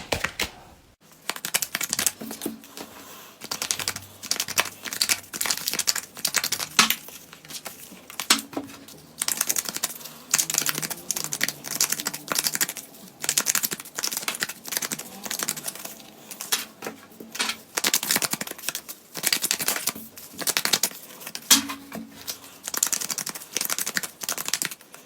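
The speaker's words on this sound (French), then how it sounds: "je vais prendre les oracles et les tarots, je vais brasser, préparer votre table" Oracle and tarot cards are shuffled at close range for a reading, giving repeated bursts of riffling, slapping card noise in an uneven rhythm across the whole stretch, with no voices.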